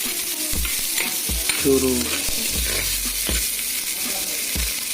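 Pork pieces fry in a pan, a close crackling sizzle with intermittent scraping stirs, and a voice briefly speaks over it.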